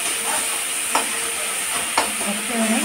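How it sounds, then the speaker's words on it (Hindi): Tomatoes, onion and spices frying in a pan for a rustic dal tadka, a steady sizzle with a couple of sharp stirring scrapes, close and continuous with no talking. "तो 2 मिनट तक हम भूनेंगे, टमाटर थोड़ा गल जाएगा तो फिर हम प्याज को डाल देंगे।"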